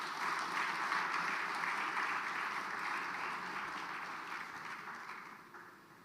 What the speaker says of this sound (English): Please offer him a round of applause.